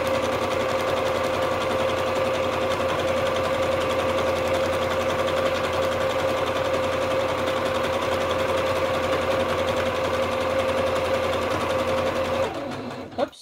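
A domestic sewing machine runs steadily and loudly, first stitching zigzag and then straight stitch on a collage roll project, a continuous mechanical whir that stops abruptly near the end.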